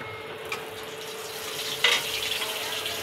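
Oil sizzles steadily in a hot pan set up for cooking shrimp with kochu loti (taro stolons), a continuous close hiss with a brief sharper crackle burst near the end and no talking.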